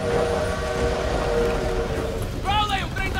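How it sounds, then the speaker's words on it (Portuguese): World War II-era train pulling out in a shooter game, loud continuous rumbling rattle of cars with a high whistle-like squeal rising near the end, over game noise and voices. "o trem tá saindo"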